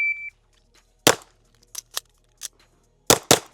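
Pistol shots from a 2011-platform handgun at an outdoor shooting range, opening with a timer beep followed by a string of sharp, loud cracks, some in quick pairs, with short pauses between.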